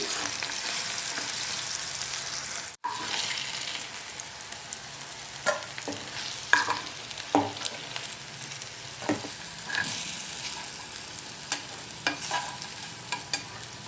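Brinjal pieces frying in a pan for a tamarind curry, a steady sizzle broken by repeated scraping and clinking strokes of a spatula, close and without speech.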